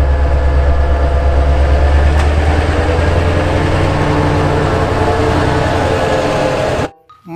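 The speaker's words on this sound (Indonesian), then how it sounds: "Kereta uap, teman-teman." A toy steam train gives a loud, steady rumbling chug with a low hum and clattering texture that runs unbroken for about seven seconds, then cuts off abruptly.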